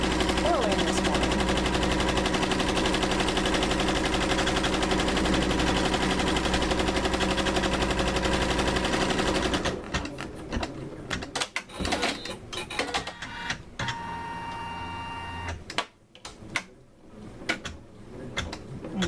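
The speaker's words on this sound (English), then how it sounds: "now it's sewing around my last piece of fabric" Janome MB-4S or MB-7 multi-needle embroidery machine stitching applique fabric, a rapid continuous mechanical chatter that runs steadily, then breaks into stop-start bursts of clicking and whirring.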